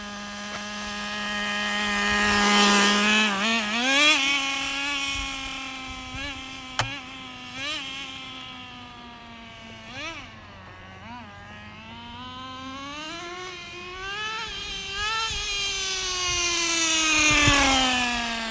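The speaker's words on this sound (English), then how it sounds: "That was full throttle." A nitro Traxxas Rustler RC truck on 20% nitro fuel screams at full throttle, its high buzzing engine pitch rising and falling as it speeds past and away, alone without talk.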